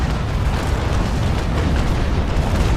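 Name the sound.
ship cannons firing a broadside in video game Naval Action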